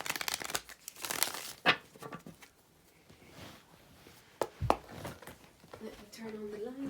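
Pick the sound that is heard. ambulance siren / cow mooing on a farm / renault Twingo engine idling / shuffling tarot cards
shuffling tarot cards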